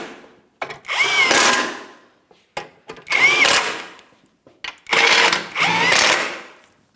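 A power tool snugs up skid shield bolts on a 2007-2014 GMC Sierra 2500 HD, whirring in three loud close bursts of about a second each, separated by short pauses with faint clicks.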